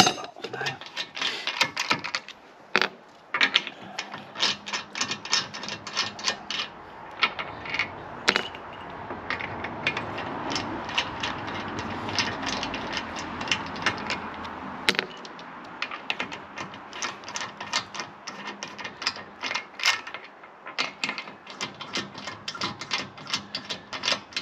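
A wheel brace slackening the wheel nuts on a Bürstner motorhome gives close, repeated metallic clicks, ratcheting and creaks in an uneven rhythm throughout.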